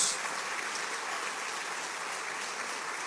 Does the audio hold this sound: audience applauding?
yes